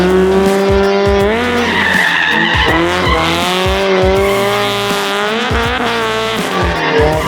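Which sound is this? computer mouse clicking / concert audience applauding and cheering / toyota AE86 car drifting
toyota AE86 car drifting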